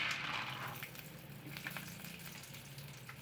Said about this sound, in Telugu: పల్లీలు అయితే వేపుకుంటున్నా.